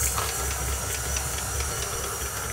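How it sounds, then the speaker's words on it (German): Stand mixer motor drones steadily while the dough hook kneads bread dough, a continuous hum with faint rhythmic knocks and rattles, close and unbroken by speech. "einfach den Knethaken einspannen und das Ganze jetzt für 3 Minuten kneten lassen"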